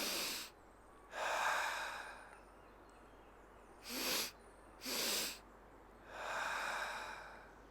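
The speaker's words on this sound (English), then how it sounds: "It's an inhalation through the nose, then a pause, another inhalation through the nose," Cyclical sighing breathing technique done up close: two quick nasal inhales followed by a longer breathy exhale, the pattern repeating twice in a quiet room.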